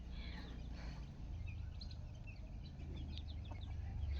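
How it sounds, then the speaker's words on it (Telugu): Soft, scattered clucks from a hen come through faintly over a low rumbling background, with no talking. "మా కోడి చూడండి ఎక్కడ ఎక్కిందో చేస్తుంది అక్కడ ఎక్కి"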